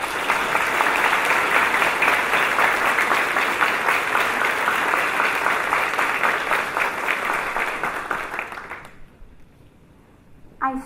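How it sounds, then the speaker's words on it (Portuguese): Warm, dense audience applause at a celebration of the Bicentenary of Bahá'u'lláh's birth, steady for about nine seconds before fading quickly into near silence, with a faint stir at the very end. "nós pedimos uma salva de palmas."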